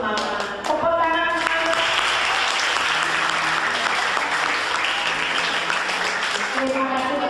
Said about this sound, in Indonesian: Itu semangat. Tepuk tangan.